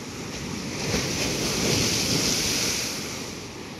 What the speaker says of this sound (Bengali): পুরো গাড়ওয়াল টপকে এপারে জল চলে আসছে